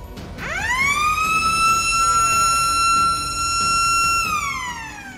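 A loud prison siren at São Raimundo Nonato Penitentiary winds up quickly to a sustained high wail, holds steady for several seconds, then begins to wind down.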